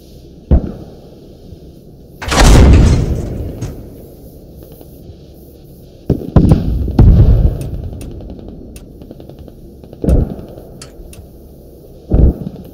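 A tank firing a HEAT round in the military shooter Squad: one heavy, booming cannon blast with a long rumbling tail stands out among scattered sharp gunshots and later thuds, close and loud.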